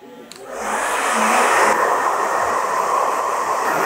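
Hair dryer blowing steadily and loud while a short cropped haircut is dried, starting after a brief click and holding a constant whooshing roar.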